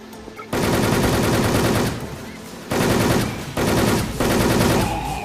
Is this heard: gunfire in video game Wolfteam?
yes